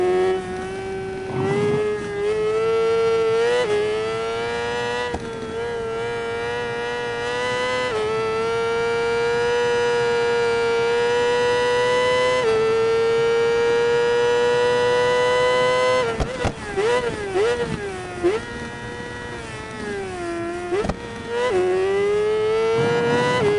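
A 600cc motorcycle engine in Ride 4 wails at high revs, holding a steady tone before dropping sharply on downshifts and climbing again, loud and continuous with no talk over it.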